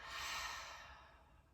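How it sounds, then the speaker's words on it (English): A long, deep, breathy exhale during a yoga breathing exercise, soft and close, gradually fading away with no talk over it. "Nice deep inhale. And exhale."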